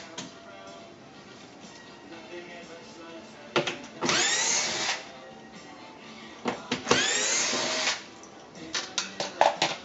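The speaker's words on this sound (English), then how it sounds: "To remove the whole control panel assembly, it's just a simple matter of removing these 1/4-inch hex bolts there." A power drill backs out 1/4-inch hex bolts from the control panel of a Maytag MDB7601 dishwasher, with two longer whirring runs of a few seconds each and several short bursts near the end over a low room background.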